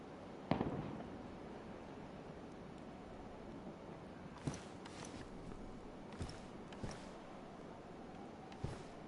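Gunshots in the survival game DayZ, a handful of distant cracks at irregular intervals over steady ambient noise, faint and far off with no talking.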